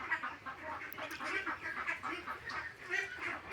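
Ducks on a duck farm quack in a busy, overlapping chorus, many birds calling close by with a steady irregular rhythm.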